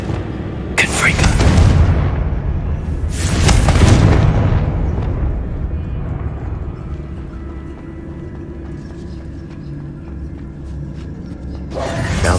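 Confringo fire spell explosions in Hogwarts Legacy, two loud blasts close together early on and another at the end, each with a rumbling tail over steady ambient game sound, with a voice speaking.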